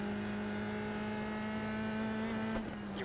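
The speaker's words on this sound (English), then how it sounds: "Car leaving the pit lane ahead of us." A USF2000 open-wheel race car in iRacing at Oulton Park holds a steady high engine whine, then the pitch shifts near the end as the car changes speed; no voices.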